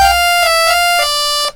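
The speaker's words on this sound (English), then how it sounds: "Lovely sawtooth wave." An ASM Hydrasynth synthesizer plays its initialized sawtooth wave as a loud, steady, buzzy tone rich in harmonics, with faint rhythmic pulses, held alone before cutting off abruptly.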